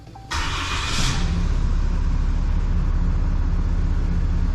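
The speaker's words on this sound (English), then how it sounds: "we'll just make sure it fires up after this countdown" A 2021 Ram 6.7 Cummins diesel engine cranks and fires, then settles straight into a loud, steady idle that fills the rest of the clip, with no talking.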